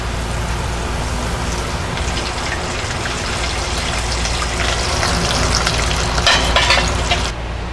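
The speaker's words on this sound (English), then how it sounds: "I'm all done frying my mozzarella risotto balls" Steady, loud sizzling of mozzarella risotto balls frying in hot oil, a dense crackle that continues without pause.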